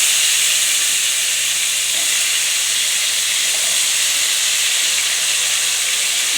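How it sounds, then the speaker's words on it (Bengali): Thick-cut potatoes frying in a pan on a home stove, a steady loud hiss of oil that holds unchanged throughout with no talking. "আলু ভাজা চাপিয়ে দিলাম"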